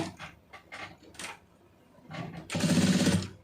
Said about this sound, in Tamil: அப்படியே சுற்றி ஃபுல்லாக தையல் ஓட்டிடுங்க